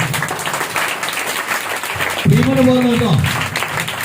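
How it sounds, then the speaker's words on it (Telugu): A church congregation at a Sunday worship service applauds, a dense wash of clapping over which a voice speaks and sings. "ఇప్పుడు కూడా చప్పట్లు."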